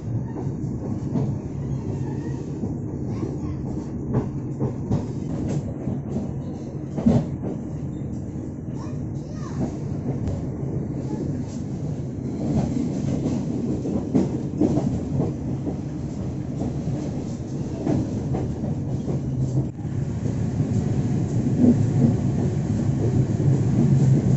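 A local train rolls past the Bandung rail depot with a steady low rumble and scattered rail clicks, continuous and fairly close. A voice is faintly present in the background.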